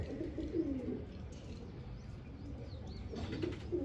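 Pigeons coo softly in a rural loft setting, low murmuring calls repeating through the clip with a few faint chirps and a brief flutter of wings, no talking.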